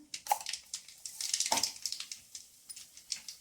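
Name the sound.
mustard seeds added to hot oil in a kadai, spluttering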